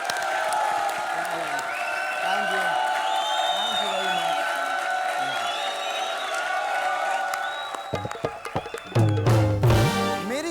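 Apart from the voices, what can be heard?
audience applause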